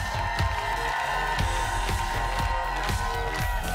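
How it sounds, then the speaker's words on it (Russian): Studio audience at a Russian TV game show greets the two celebrity producer guests with applause and cheering, a steady loud wash of clapping and whoops with a music bed underneath. "Под ваши аплодисменты мы начинаем."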